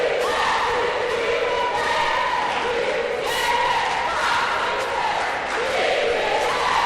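Crowd in a college women's basketball gymnasium, a steady, loud murmur of cheering and shouting voices with occasional thuds, under an announcer's commentary.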